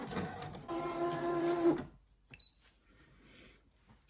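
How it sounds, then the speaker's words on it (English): A Brother ScanNCut machine cuts glitter heat transfer vinyl with a close, mechanical whirring buzz of its moving carriage. The whirring stops abruptly, followed by quiet handling clicks and faint rustling. "Okay, so that's finished cutting."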